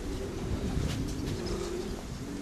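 Racing pigeons cooing near a loft as birds return and settle, a soft, steady murmur of coos against a low background rumble.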